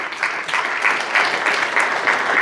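A church congregation claps together in a dense, steady burst of applause that fills the whole moment, loud and close, with no talking.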